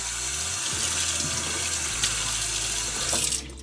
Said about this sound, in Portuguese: É outra coisa lavar a louça com água quente.